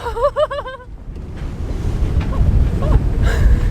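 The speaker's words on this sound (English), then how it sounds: "We got some waves!" Ocean waves wash steadily around a sailboat at sea, a continuous loud rushing mixed with wind buffeting the microphone, opened by a brief warbling tone.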